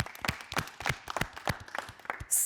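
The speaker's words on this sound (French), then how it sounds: "je pense que ça mérite des applaudissements" Hands clap for fighters after a friendly bout, a brief spatter of distinct, fairly close claps from a small group, uneven in rhythm and fading fast.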